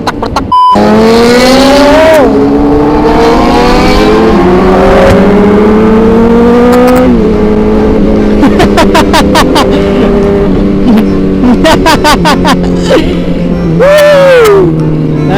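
A loud BMW 1000 RR superbike engine revs hard again and again, pitch climbing and dropping, with rapid crackling pops between the revs.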